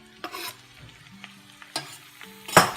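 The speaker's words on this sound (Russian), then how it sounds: "Все это тщательно перемешиваем." Potatoes frying with thin onion half-rings and finely chopped garlic are stirred in a pan, giving scraping spoon strokes and bursts of sizzle, with a loud stir near the end.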